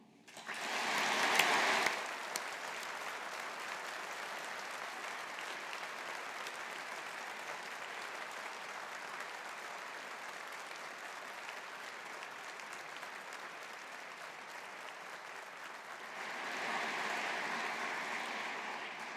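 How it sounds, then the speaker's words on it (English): Long, steady applause from a crowd at a university business school graduation ceremony honouring alumni, with a louder burst at the start and a swell near the end, continuous dense clapping without talk. "let's show our appreciation with a collective round of applause for our alumni"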